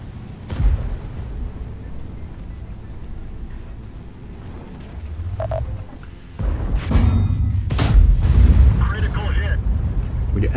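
Type 5 Heavy tank cannon in World of Tanks fires with a deep, booming blast, followed by rumbling battle noise and further heavy impacts in the game.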